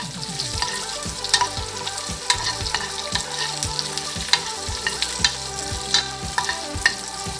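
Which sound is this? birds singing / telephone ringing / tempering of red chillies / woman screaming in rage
tempering of red chillies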